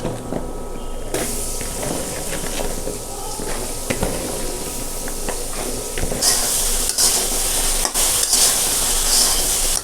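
Flat beans stir-fry with turmeric and cumin powder in a pan: a steady close sizzle runs throughout, broken by scraping stirs and clinks of a utensil against the pan, with the hiss growing brighter in the second half.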